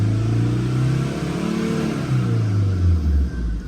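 Tata vehicle engine revving sluggishly, its loud nearby drone rising, dipping and rising again as the acceleration struggles to build.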